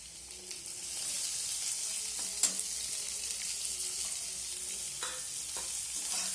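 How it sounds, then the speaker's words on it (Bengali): Chopped onions frying in oil with cumin and green and ripe chillies: a steady, close hiss of sizzling, broken by occasional soft clicks and scrapes of stirring, with no talking. "অল্প একটু নাড়াচাড়া করে নিয়ে এর মধ্যে দিয়ে দেবো কেটে রাখা পেঁয়াজ।"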